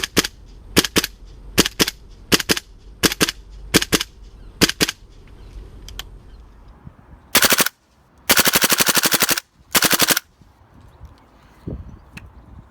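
A GHK AK gas blowback airsoft rifle fires BBs loudly up close: a string of sharp single shots at a steady pace, then three rapid full-auto bursts of rattling cycling action, the middle burst longest.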